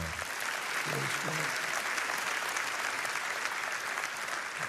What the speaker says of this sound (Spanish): denle un aplauso de adoración al Señor.